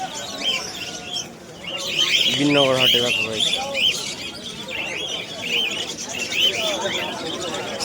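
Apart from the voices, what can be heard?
pigeons cooing at a bird market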